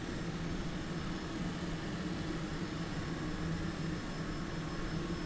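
Cessna Caravan 208 turboprop engine in Microsoft Flight Simulator 2020, a steady, fairly loud low drone with constant rumble holding evenly throughout with no voices over it.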